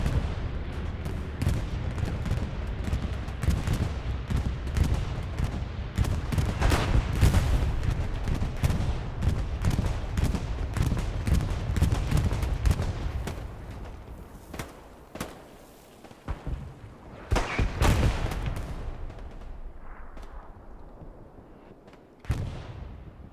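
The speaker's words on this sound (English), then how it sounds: "We'll see how the Allied bombing run fares." An Allied bombing run in Hell Let Loose at Hurtgen Forest, with a dense barrage of heavy booming explosions and gunfire rolling for most of the stretch, then thinning to scattered loud blasts and cracks toward the end.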